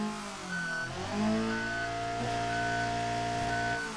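A racing car engine in the driving game BeamNG roars and revs up and down in smooth sweeping pitches, loud and continuous, with no talking.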